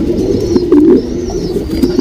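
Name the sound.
HMT Rekdhar pigeon cooing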